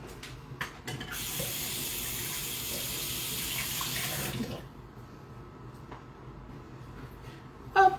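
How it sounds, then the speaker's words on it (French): Hands washed under a running kitchen tap after cracking eggs: a steady hiss of flowing water for about three seconds, then it cuts off, followed by quiet clatter and a sharp knock at the end. "On se lave les mains."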